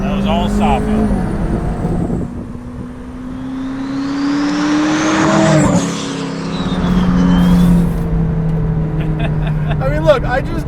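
Triple turbo McLaren car engine heard from inside, steady loud drone with gradually rising pitch as it accelerates, plus faint whistles.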